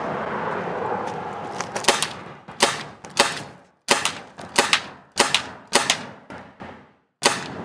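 Umarex Glock 19 BB pistol fired outdoors in about ten sharp, loud cracks at uneven intervals, each followed by a short ringing tail.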